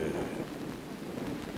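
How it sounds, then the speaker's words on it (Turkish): Steady, dense hiss of heavy rain pouring down, continuous and fairly loud with no breaks. "Yağmur yağacak dedin yağdı, hem de bak nasıl."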